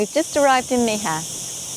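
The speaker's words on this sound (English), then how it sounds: "The sound you can hear is the sound of crickets," Faint, steady high-pitched cricket chirping continues in the background in Mijas on Spain's Costa del Sol while a person speaks briefly in the foreground.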